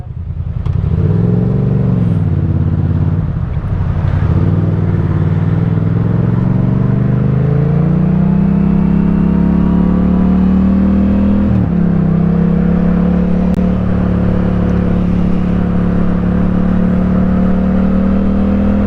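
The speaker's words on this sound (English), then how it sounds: "Like I was full throttle, gear 6 all the way through that little fast lane bit where I merged" Yamaha MT-07 motorcycle held at full throttle in sixth gear while merging onto a fast lane on a UK country road, its engine a loud, continuous drone that rises steadily in pitch, with wind roar throughout.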